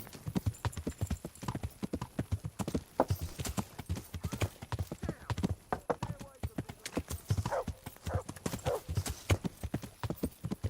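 Horse hooves clip-clop in a steady, rapid rhythm throughout in the video game Kingdom Come: Deliverance, close and continuous, with people talking over the footfalls.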